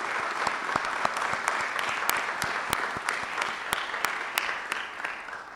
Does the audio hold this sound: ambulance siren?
no